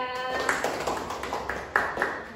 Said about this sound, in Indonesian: beri tepuk tangan buat Mbak Fisya